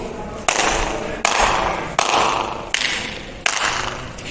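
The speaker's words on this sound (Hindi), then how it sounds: "तो चलिए यहाँ हम ट्राई करते हैं ताली वाली जो पद्धति है इसको।" Five sharp hand claps ring out at steady intervals inside the stone gateway of Golconda Fort, each one followed by a long echo that decays before the next clap.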